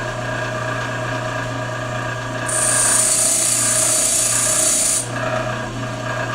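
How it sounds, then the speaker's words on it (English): A lathe bit ground on a bench grinder gives a steady, high, hissing whine for a couple of seconds on top of a constant motor hum, then drops back to the hum alone. "I can take that facet out if I grind it for a little longer on one spot"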